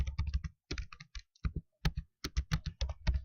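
Quick bursts of keystrokes on a computer keyboard, typed close up in an uneven rhythm with short pauses between clusters of clicks and no voices.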